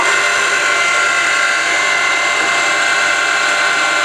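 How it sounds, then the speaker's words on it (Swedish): Milling machine motor running up in a workshop, a steady broadband whir with a bright high tonal hum that holds constant and loud throughout, no voices. "Jag startar upp maskinen här nu."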